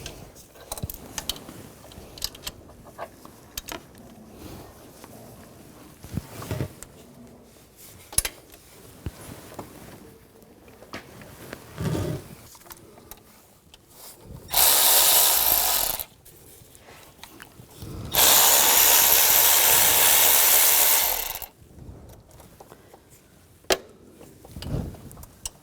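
A 13mm socket ratchet works on the alternator tensioner bolts of a 2000-2006 BMW X5 3.0L straight-six. Two loud bursts of rapid ratchet clicking, one short and one longer, stand out among quieter clinks and tool handling.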